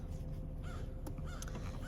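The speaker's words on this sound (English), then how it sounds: "there's a bunch of seagulls having their morning breakfast" Seagulls call on a morning in Oklahoma, faint and distant over a steady wash of background noise.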